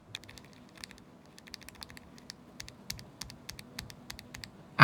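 Bare Vampire mechanical keyboard switches with the keycaps removed are typed on in a steady stream of sharp, close clicks and clacks, some quick bursts and pauses, with no talking.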